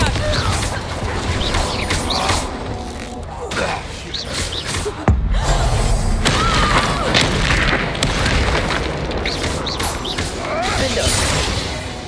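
Confringo and Bombarda spells explode one after another in Hogwarts Legacy, a dense run of booms, crashes and whooshes that fills the whole stretch, with voices shouting over the battle.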